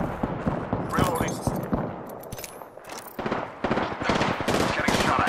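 Rapid gunfire from the battle royale game Apex Legends crackles in dense, overlapping bursts and short automatic strings, close and loud, with in-game voice lines over the shooting.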